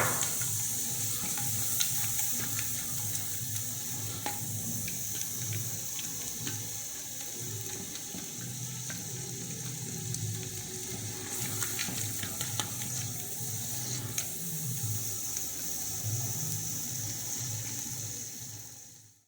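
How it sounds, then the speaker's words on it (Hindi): Coriander, turmeric, salt, chili and korma masala fry in a pan for beef korma, a continuous close sizzle with occasional stirring scrapes and no voices. "तो अब हम इन सब चीज़ों को अच्छे तरीके से भून लेते हैं।"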